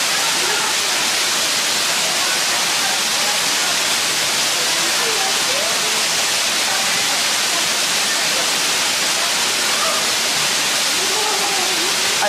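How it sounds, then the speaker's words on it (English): A loud waterfall on a hiking trail roars as a dense, unbroken rush of white-noise-like water, steady and close for the whole stretch, with a voice talking faintly beneath it. "I hope you can hear me because the waterfall is pretty loud."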